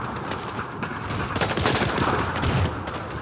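Gunfire in the Day Of Wars game, a dense and steady fusillade of shots rattling on continuously at close range, growing louder midway.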